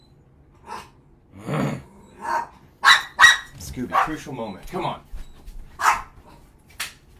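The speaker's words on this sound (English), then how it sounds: "My dogs." Pet dogs barking and growling excitedly indoors, several sharp barks and yips breaking through repeatedly while a person talks over them.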